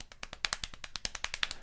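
Fast, louder hands drumming on a lap to imitate heavy rain, a quick steady run of close taps with no voices over them.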